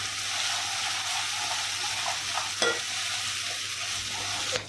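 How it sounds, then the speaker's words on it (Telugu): Ginger garlic paste frying with onions in a pan for egg biryani, a constant close sizzle broken by a few scraping stirs, one sharper scrape near the middle, no voices. "మంచిగా పచ్చివాసన పోయేంత వరకు బాగా కలుపుకోండి"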